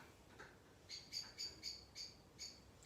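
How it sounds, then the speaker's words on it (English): A blackbird sings faintly at a distance, a short run of repeated bright whistled phrases coming in quick pulses over quiet background hiss. "Can you hear that blackbird? Beautiful blackbird singing."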